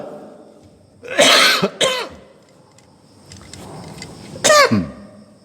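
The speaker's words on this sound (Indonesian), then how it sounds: "maaf nih, batuk." A person coughs sharply twice in quick succession, then after a short pause coughs hard once more, close and loud.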